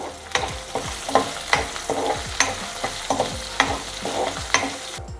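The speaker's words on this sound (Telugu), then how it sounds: "పచ్చిమిరపకాయలు, జీలకర్ర ఇవి వేసి కొంచెం పచ్చిమిరపకాయలు వేగేంత వరకు వేయిద్దాం." Green chillies and cumin sizzle in a hot pan for mango pulihora, with repeated scraping stirs of a spoon giving a steady rhythmic pattern over continuous close frying crackle.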